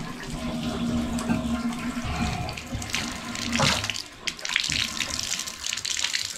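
Water runs at low flow from a shower fed through a partly cracked supply valve, a steady close splashing and trickling rush with small surges and gurgles throughout.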